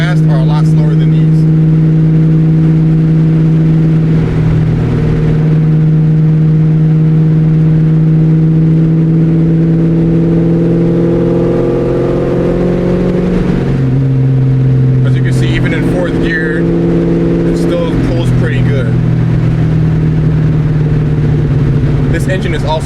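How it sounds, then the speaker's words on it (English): A 1999–2004 Ford Mustang GT V8 engine hums steadily from inside the cabin while driving, a smooth low drone with gentle rises in revs, loud and continuous throughout. "This engine is also extremely smooth for a V8."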